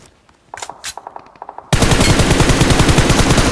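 Gunfire from another squad in PUBG on the Erangel map, first scattered distant shots and then a loud, rapid automatic burst running continuously close by.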